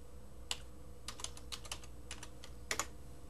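Quiet, sparse keystrokes on a computer keyboard, a few isolated taps followed by a short quick cluster of clicks, close and faint against a low hum.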